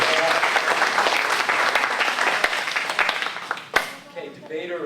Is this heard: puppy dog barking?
no